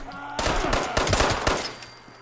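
A quick burst of rapid gunfire from the Fallout video game, several sharp close shots in a row that fade out after about a second and a half, with almost no talking.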